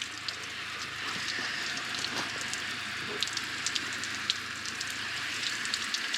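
Water sprayed over a flip-up motorcycle helmet to simulate rain, a steady dense patter of droplets drumming on the shell, close and continuous.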